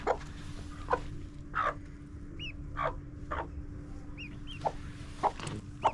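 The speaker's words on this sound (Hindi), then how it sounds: "ये रही हमारी मुर्गी जिसने मस्कवी डक का बच्चा निकाला हुआ है" A hen that hatched a Muscovy duckling clucks in short repeated bursts on an Australorp farm, close by, with faint chick peeps and a low background hum.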